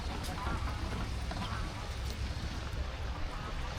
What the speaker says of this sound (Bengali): এই যে এখানে হাঁস গুলারে খাওয়ান দেয়